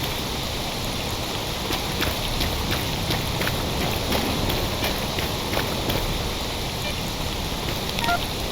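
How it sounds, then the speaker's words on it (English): Steady rain hisses throughout in the STALKER Old World addon game, an even wash of falling water with faint scattered ticks and clicks, loud and continuous with no talk. "God, this rain."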